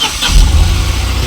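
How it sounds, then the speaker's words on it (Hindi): A Tata Nano car engine cranks and catches up close, turning into a loud, steady low rumble with no talking. "ये गाड़ी स्टार्ट करता हूँ अभी।"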